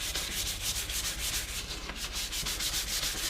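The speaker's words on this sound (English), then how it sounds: "hitting it a light sanding" Light sanding of a sprayed guitar body, a steady, close scratchy rubbing in quick back-and-forth strokes with no voices.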